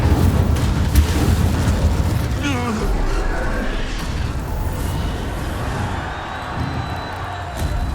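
An Incendio fire spell goes off in the video game Hogwarts Legacy with a loud fiery burst and rumbling booms. Dense game sound effects continue around it.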